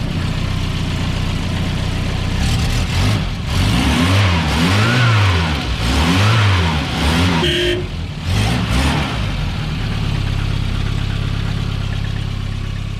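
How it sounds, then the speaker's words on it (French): An old Volkswagen Bi G60 car engine idles close by, then revs repeatedly in rising and falling surges before settling back to a steady idle. "Après tellement d'années que le moteur tourne encore."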